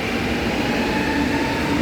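A subway train rumbles steadily through an underground mall station, with a continuous roar and a faint high whine held throughout, no talk.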